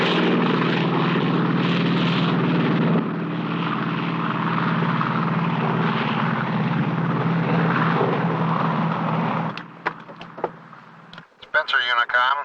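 Propeller aircraft engines drone steadily at 34 inches manifold pressure, a loud continuous cabin roar that runs unbroken for most of the stretch before dropping away into scattered clicks and intercom-style voice bursts near the end.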